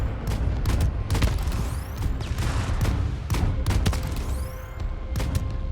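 Ship guns firing in bursts in the space video game Void Crew, a steady series of loud booming shots with short gaps between bursts, some with whistling tails, continuing throughout.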